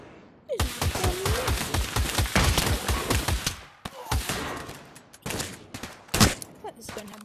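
Rapid bursts of automatic gunfire in the VR shooter Pavlov Shack, dense rhythmic shots for several seconds, then a pause and a few more scattered sharp bursts, loud and close with no speech.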